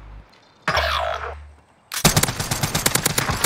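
Rapid automatic PPSh submachine gun fire in the Warzone video game: after a short burst of whooshing movement noise, a sustained, loud, close stream of shots rattles on to the end.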